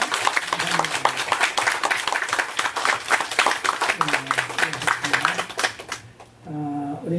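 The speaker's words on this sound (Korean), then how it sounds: "작년 1그룹을 위해서 박수 한번" A church congregation claps together in a dense burst of hand claps that fades after about six seconds, with a low hum and a short rising musical or vocal tone at the end.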